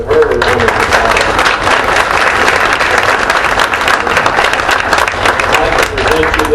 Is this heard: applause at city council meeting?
yes